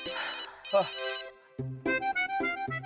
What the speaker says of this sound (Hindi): मेरे क्लाइंट का फोन होगा, मुझे फोन उठाने दो।